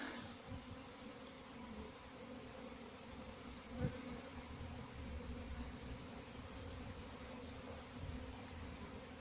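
Honeybees humming around hives at an apiary during orientation flights, a continuous faint drone of many bees with occasional closer passes, no talking.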